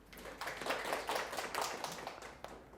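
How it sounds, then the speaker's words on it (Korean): An audience at a youth center lecture claps in a short, fairly quiet round of mixed handclaps that rises and then tapers off. "너무 좋은데 박수 한번 주세요."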